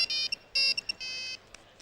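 A mobile phone ringtone plays in short repeated electronic bursts, loud and clear with brief gaps between tones, alone without any talk.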